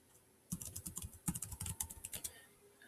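Fingers type a search on a computer keyboard in a quick, soft burst of about twenty close key clicks after a brief silence, then stop.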